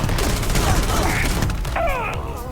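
Shotgun blasts from the Riot Shotgun in Starfield boom in quick succession, loud and close, with a brief creature groan and game effects trailing after.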